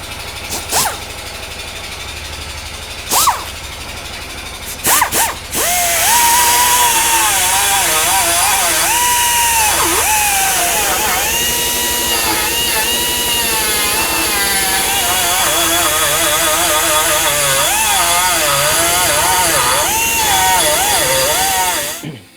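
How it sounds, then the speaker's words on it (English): Die grinder cutting metal on a Mini Cooper build: a few sharp knocks, then a loud, continuous high whine that wavers in pitch as the tool bites, holding steady for over fifteen seconds before stopping. "we use a die grinder"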